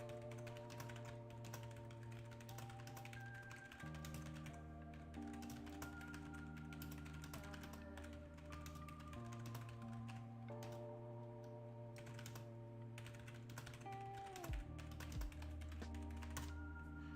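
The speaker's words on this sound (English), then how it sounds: "I'm sorry if you guys hear me typing." Quiet tapping on a computer keyboard runs through the stretch in irregular soft clicks, sitting faintly beneath steady background music.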